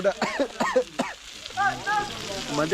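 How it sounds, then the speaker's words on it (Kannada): Fish frying in oil on a wood-fired stove, a steady close sizzle and crackle running under clearly heard talk from people nearby. "ಸೊ ಇದೆಲ್ಲ ಆದಮೇಲೆ ತಂದವು ಅದೇ ಮೀನು ಫ್ರೈ ಮಾಡ್ತಾ ಇದ್ದಾರೆ"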